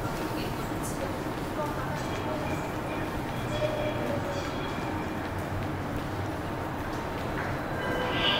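A train runs through Gu Seong station on the Korean rail line, a steady broad rumble and rattle that swells slightly toward the end.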